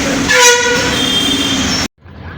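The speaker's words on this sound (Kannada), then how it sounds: "ಸೊ ಇದುವೇ ಹುಬ್ಳಿ ರೈಲ್ವೆ ಸ್ಟೇಷನ್" A train rumbles nearby at Hubli railway station as a loud, tonal horn blast sounds, then everything cuts abruptly to near silence.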